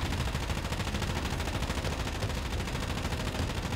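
Rapid, dense gunfire rattles continuously in Call of Duty: Warzone, with bursts of automatic fire and booming cluster-strike impacts layered into a constant loud barrage.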